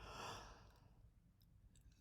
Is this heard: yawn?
yes